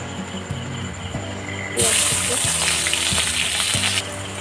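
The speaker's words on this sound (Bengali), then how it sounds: "ওই একই তেলে এবার গরম হয়ে গিয়েছে। আমি দিয়ে দেবো পেঁয়াজ কুচি।" Chopped onions tipped into hot oil, left after frying potatoes, for Kolkata-style mutton biryani; a low bubbling fry jumps into a loud, bright sizzle partway through, then settles back, close up with no talk.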